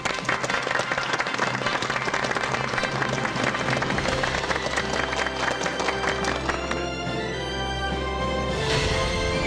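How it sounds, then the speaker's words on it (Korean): Studio audience clapping for arriving guests on a Korean TV health talk show, continuous applause over loud music that swells and shifts toward the end. "여러분 박수로 환영해 주십시오"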